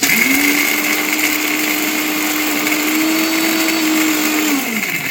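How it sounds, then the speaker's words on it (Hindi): A kitchen mixer grinder whirs steadily as it grinds dry peanut shells into fine powder, a loud continuous motor drone that holds even for several seconds and then begins to wind down at the end, with no voices. "मैं मिक्सी में महीन से पीस लूंगी"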